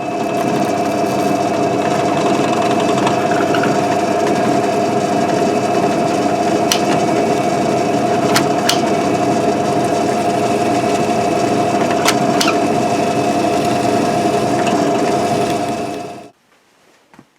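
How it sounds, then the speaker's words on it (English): A drill press re-drills the tuner holes in a guitar headstock: a steady, loud motor whine runs for about sixteen seconds with occasional faint ticks and scrapes, then spins down and stops. "we'll go over to the drill press and we'll re-drill out our tuner holes"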